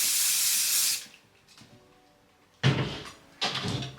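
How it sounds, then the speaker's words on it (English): Hairspray hisses from an aerosol can onto a section of a drag wig in three close bursts: one long spray, a pause, then two shorter blasts. "So we're only putting the hairspray on this section here."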